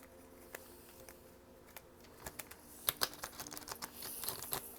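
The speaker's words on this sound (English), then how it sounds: "Let's get one more shuffle" Tarot cards get shuffled by hand, soft quiet riffling clicks and taps that grow busier and denser halfway through, close and faint with no talking.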